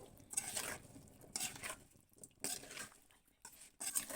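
Potatoes stirred in a pan over a high gas flame: a spoon scrapes and clinks in repeated strokes about once a second, with a soft frying hiss underneath, close and fairly quiet.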